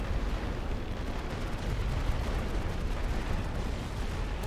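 A dense, continuous rumble of distant artillery barrage from a World War I trench-warfare game set on the Western Front at Ypres, a steady roar of overlapping blasts with no pauses, heard alone without talk.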